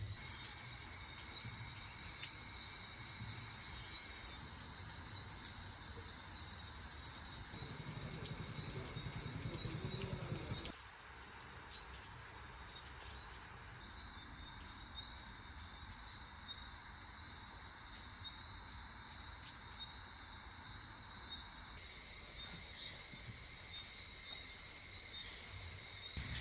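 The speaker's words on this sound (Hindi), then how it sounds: "और सिर्फ एक क्रिकेट की आवाज़ आ रही है।" Crickets chirp continuously in a quiet setting on the ghats of the Narmada River at Maheshwar, India, a steady high trill with faint low rumble underneath and no voices.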